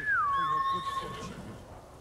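Horse in the video game Ghost of Tsushima gives a loud, close whinny that falls in pitch, followed by a softer snort and game ambience.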